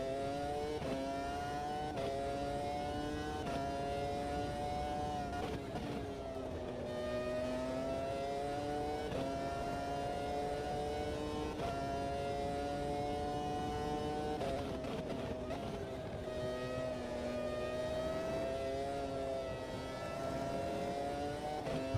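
Screaming V10 race car engines lap Spa in the Automobilista 2 racing game, a loud, continuous high-pitched wail that rises and falls through gear changes and revs for the whole stretch.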